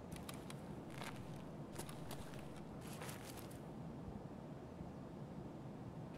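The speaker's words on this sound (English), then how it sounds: "I hear footsteps." Footsteps in the shooter game Escape From Tarkov, a series of faint, crisp steps in the first half that stop, then steady low background noise.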